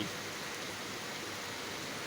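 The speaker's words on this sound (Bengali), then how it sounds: "ফাঁকা রাস্তা এখন শুধুই রিমঝিম বৃষ্টির শব্দ আর বিরতিহীন বৃষ্টি" Steady rain falling on an empty Dhaka street at night, a continuous even hiss of drops, faint and unbroken, with no voices.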